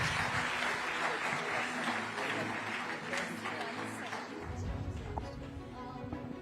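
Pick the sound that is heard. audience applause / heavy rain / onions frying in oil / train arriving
audience applause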